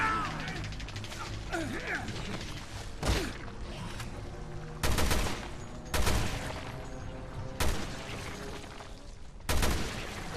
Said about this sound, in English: I'm going to go ahead and switch to my assault rifle now.